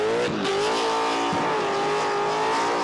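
A car doing a smoking burnout skid, tyres squealing loudly and continuously with the engine howling at high revs, close and sustained throughout.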